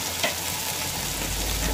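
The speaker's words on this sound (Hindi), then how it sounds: "हल्के हाथों में चलाते जाएंगे" Malabar spinach seeds cooked with green chilli and turmeric are stirred gently in a hot pan, a brief, even sizzle with soft stirring underneath.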